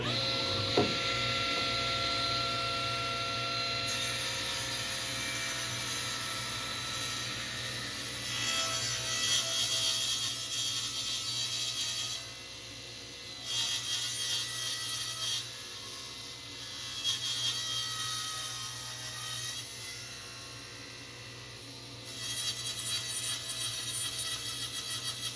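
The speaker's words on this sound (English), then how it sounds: "Fire up the vacuum," A table saw rips a wooden board for a garden bench while a dust vacuum runs beside it. The steady, loud machine whine and cutting noise carries throughout, with several surges as the blade bites into the wood.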